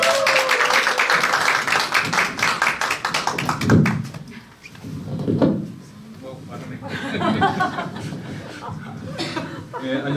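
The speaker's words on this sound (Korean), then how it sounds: "감사의 박수로 모시겠습니다" Audience applause at a Wednesday business meeting welcoming two speakers onto the stage, dense rapid clapping that fades after a few seconds into chuckles and talking.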